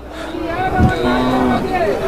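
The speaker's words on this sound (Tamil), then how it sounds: "இதெல்லாம் மைசூர் மாடுங்க" Mysore cattle at the Anthiyur Gurunathaswamy temple festival let out a low moo amid a loud, crowded outdoor din, with people talking nearby.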